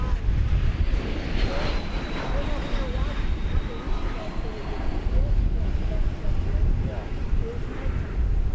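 An airliner from Oklahoma City touches down at DFW Airport, a continuous broad engine roar with wind buffeting, sustained and fairly loud.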